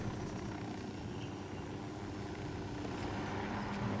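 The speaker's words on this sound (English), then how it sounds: "Try not to damage the helicopter on landing too much." Steady, close helicopter rotor and engine drone as the aircraft comes in to land in a video game, a continuous whirring roar with no talk.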